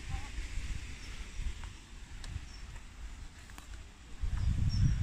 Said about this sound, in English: it is a windy day today